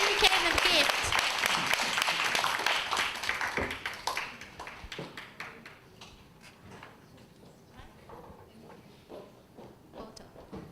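An audience at a 2015 D67 Fallcon training event applauds Doug Swan: loud, dense clapping for about four seconds that thins to scattered claps, with people talking nearby.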